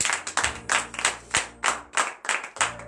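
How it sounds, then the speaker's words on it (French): A congregation at a Wednesday morning prayer service in Benin claps in acclamation, about ten sharp, fairly even bursts of hand claps in quick succession, close and alone without talk. "Donnez l'acclamation à l'Éternel."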